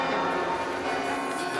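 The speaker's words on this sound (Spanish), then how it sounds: "Las campanas de catedrales como la de Santiago, Granada o la de Barcelona, la Sagrada Familia, han repicado para celebrar la elección del nuevo Papa" Cathedral church bells peal in celebration of a newly elected Pope, a sustained, bright metallic ringing with overlapping tones heard at a moderate distance.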